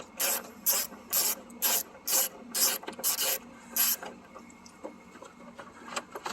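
Eight or so short ratcheting rasps from a tool loosening T30 screws held in rubber grommets on a 2006 BMW 750Li, close and evenly spaced, then a few quieter clicks and handling sounds.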